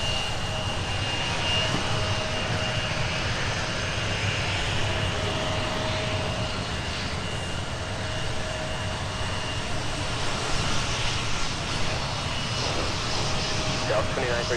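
A Delta airliner departs Minneapolis–St. Paul for Atlanta, giving off a steady, moderately loud jet engine drone with a faint whine, sustained throughout while people talk intermittently nearby.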